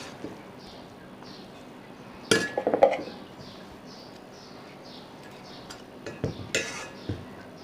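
A small metal spoon clinks against a bowl while cornflour is measured into smooth mashed potato for homemade potato chops, giving two close bursts of bright clinks with no talking.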